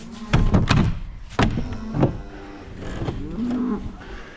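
A cow that calved early that morning lets out several low, loud moos in short bursts, close by, with thumps and barn noise in between.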